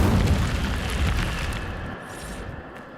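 A fire spell bursts out in Hogwarts Legacy with a loud booming whoosh, then a roaring crackle that slowly fades over a few seconds, with no voices.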